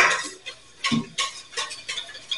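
A spoon stirs French garlic soup in a pot, making a handful of short scraping strokes against the metal in an uneven rhythm. The sound is close and moderately quiet, with no voices.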